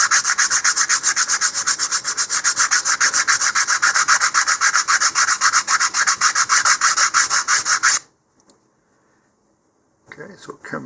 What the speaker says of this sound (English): So I'm just adjusting the angle of my sanding a little bit.